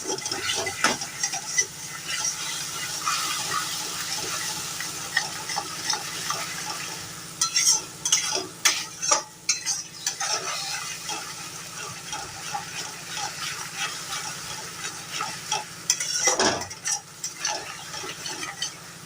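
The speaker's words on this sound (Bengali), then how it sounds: "এবার মশলার পেস্টটা খুব ভালো করে আমি একটুখানি কষিয়ে নেব" Spice paste being stir-fried in a pan, a soft continuous sizzle with repeated scraping and clinking strokes of a spoon, busier in the middle, close by with no talk.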